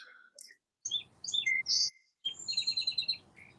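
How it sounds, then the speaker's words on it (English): Birds chirping outdoors, a few short bright tweets and a quick trilling run of repeated notes, fairly close and clear over a faint background hiss. "Oh man, I hear birds chirping."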